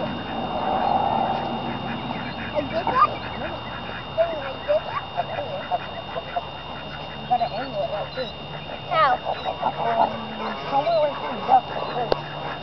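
Ducks at a pond quack repeatedly in short, uneven bursts, nearby and fairly clear, over a steady outdoor background, with people talking at times.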